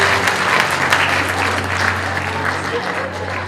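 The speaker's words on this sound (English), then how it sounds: "Fantastic round of applause." A full audience claps at an illusionist's college stage show, producing a loud, dense, continuous wash of applause over a low steady hum, easing slightly toward the end.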